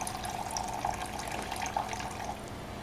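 Liquid drains from a separatory funnel in a chemistry teaching lab, a steady trickling, gurgling flow into a flask below, continuous and close with a few brighter drips along the way.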